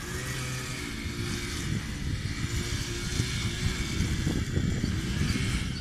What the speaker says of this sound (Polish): koszenie traw.